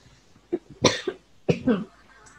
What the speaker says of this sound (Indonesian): Ini batuk karena terlalu bersemangat.